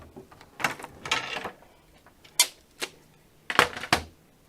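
Scoring tool pressing fold lines into card stock, with several separate sharp scraping strokes and taps of uneven spacing, close and moderately loud, no talking.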